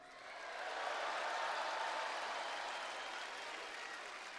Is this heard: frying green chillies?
no